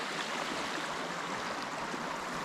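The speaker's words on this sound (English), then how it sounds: "next to this creek. Is really peaceful and nice calm place" Steady, broadband rushing of creek water flowing in a wilderness setting, constant and fairly close, with no talking.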